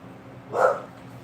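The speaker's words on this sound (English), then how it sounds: "he just drinking water and then decides to bark" A dog gives a single short bark midway through, close by and fairly loud, after drinking water, heard over a low background hum.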